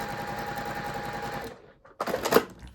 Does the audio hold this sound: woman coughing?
no